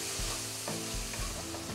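Mushrooms sizzle steadily in a pan over a high flame, releasing their water, with a continuous close hiss and a few soft stirring knocks underneath.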